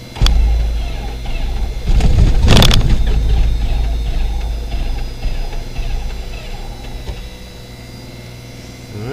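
Cessna 152 light aircraft piston engine starting on the ground, a sharp crank near two seconds catching into a loud, steady propeller-driven idle that continues close by and unbroken to the end.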